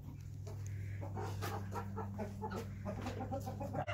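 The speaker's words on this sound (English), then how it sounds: "So this is our large chicken coop" Chickens cluck in a large farm coop, several birds giving repeated close, rhythmic clucks over a steady low hum.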